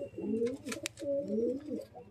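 A big pigeon in a home loft cooing close up, two rolling coo phrases back to back with no talk over them.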